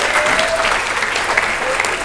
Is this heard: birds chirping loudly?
no